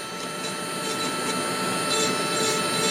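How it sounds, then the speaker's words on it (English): An SMC Tornado 1000 dust collector runs in a woodcarving workshop where feathers are carved on a hawk head, giving a steady, fairly loud broadband whoosh and hum with no pauses. "dust collector. You can hear that going in the background."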